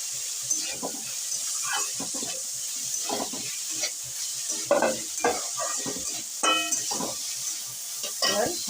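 Cabbage, carrots, beans and peas stir-fry in a hot pan, a steady sizzle broken by frequent close scraping and tossing strokes of a spatula.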